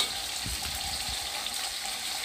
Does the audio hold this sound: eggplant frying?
yes